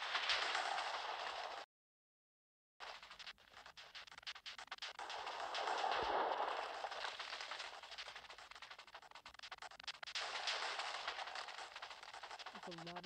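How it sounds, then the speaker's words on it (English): TNT explosions in a video game mod, a dense crackling barrage of rapid bursts and blasts, loud and continuous with a brief silent gap, under occasional talk. "That's a lot of TNT."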